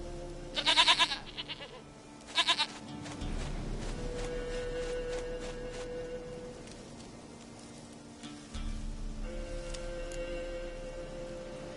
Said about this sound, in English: Goat of mine, dearest, sweetest goat.